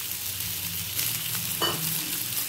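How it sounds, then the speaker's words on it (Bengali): Potatoes fry in hot mustard oil for a poppy-seed and ridge-gourd dish, a close steady sizzle with a brief scrape or stir partway through, no voices. "তেলও গরম হয়ে গেছে, এবার দিয়ে দেব আলু।"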